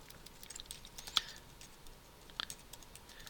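Keys on a computer keyboard are tapped to enter a name, giving quiet, irregular clicks with two sharper strikes, heard close up with no talking.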